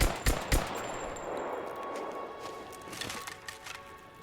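Sharp gunfire from Rise of the Tomb Raider, pistol and carbine shots at close range: two loud reports near the start, then a lighter burst later, over a steady game ambience with no talking.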